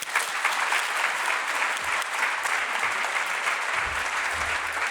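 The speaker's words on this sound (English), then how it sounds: "Please join me in giving a big round of applause to our speakers" Audience applause for the speakers at a 2018 women in the built environment event, a dense, even wash of clapping from a sizeable crowd that holds steady for the whole stretch with no voices over it.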